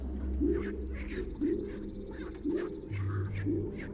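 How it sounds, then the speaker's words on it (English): West Indian frogs call in a repeating series of short chirping notes, about one per second, from a moist night setting with a steady insect-like backdrop and a low hum underneath. "The West Indian frogs."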